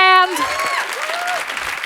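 Audience applause for a performer and his band at a foundation event, brief clapping that starts after a sustained tone and carries under a voice speaking.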